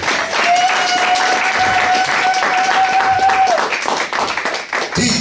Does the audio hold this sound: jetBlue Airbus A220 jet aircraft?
no